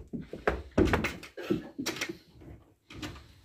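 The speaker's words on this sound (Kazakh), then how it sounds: "Есікті ашамыз." A goat milking-pen door is opened with a few dull knocks and thumps close by, set against pen noise and an intermittent motor-like background.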